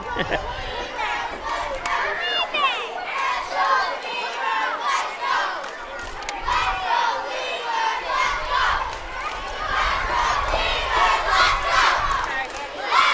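Crowd noise at a collegiate baseball game in the New York Collegiate Baseball League, a mix of cheering, shouts and chatter from spectators, steady and moderately loud with voices rising and falling throughout.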